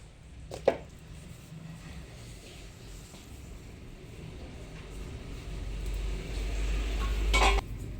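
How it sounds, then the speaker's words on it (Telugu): Chili powder is stirred into chopped mango pickle in a bowl, a soft, continuous scraping and mixing close by, with a sharp utensil clink near the start and a louder knock near the end. "ఇలా కలుపుకోవాలి కారం వేసినాక కూడా మంచిగా కలుపుకోవాలి"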